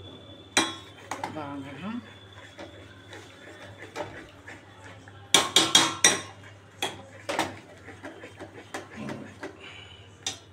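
A spoon stirs a cornflour and milk powder mix into boiling milk in a pot for kulfi, making irregular close clinks and scrapes against the metal, with a brief spoken word early on.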